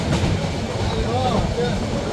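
The Porjotok Express runs from Cox's Bazar to Dhaka at night, heard from inside as a steady low rumble with faint wheel clatter.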